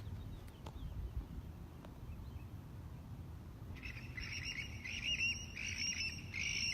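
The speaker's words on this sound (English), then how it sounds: "The birds are just so adorable today. Everywhere I go, they're just really chirping loud at me." Birds chirping and tweeting, faint at first, then louder and more insistent calls in the second half over a low rumbling background.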